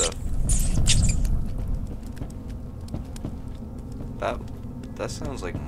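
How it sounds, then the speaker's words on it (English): Mice squeak and scurry in the horror video game Layers of Fear, with light pattering and faint high squeaks mixed under game ambience and a player's voice. "That sounds like mice."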